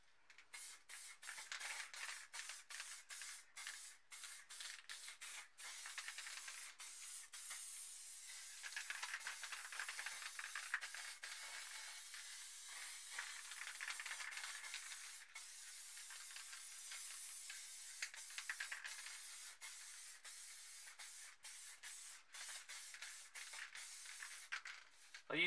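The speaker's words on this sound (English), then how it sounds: "next thing we're going to do is spray it black." Black spray paint can hissing in repeated bursts over a stencil, some short taps and some long steady blasts, close and fairly loud, with brief pauses between.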